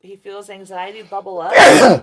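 A voice talks briefly, then one loud, explosive sneeze bursts out close by.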